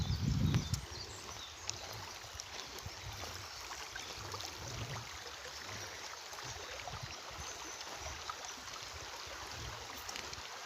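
A shallow rural river in Ethiopia, running low after a drought, gives a faint, steady wash of flowing water. There is a brief louder rumble at the start and no voices.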